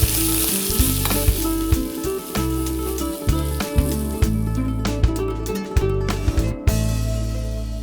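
Onions gently sautéing in a pan, a dense continuous sizzle with crackling pops and periodic scrapes of stirring, close and fairly loud, no voices.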